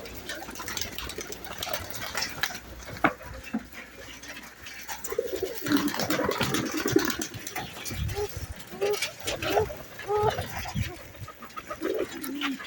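Pigeons, including a Royal Teddy pigeon, cooing in a loft, repeated low coos through the middle and latter part, with someone talking over much of it.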